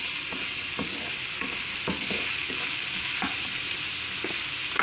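Vegetables fry in a pan with a steady, fairly loud sizzle, while a spatula scrapes and stirs in quick repeated strokes. Rice is about to go in, and no one speaks.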